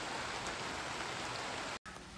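Steady rain falls outdoors in a continuous, even hiss close by, broken only by a brief gap near the end, with no voices present.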